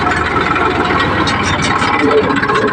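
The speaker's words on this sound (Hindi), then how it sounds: "हम यहाँ पर अपनी ट्रैक्टर को धीरे गति में ही चलाते हैं" Farm tractor driven slowly through fields, its engine chugging in a steady low, pulsing rumble close by; a voice talks over the motor throughout.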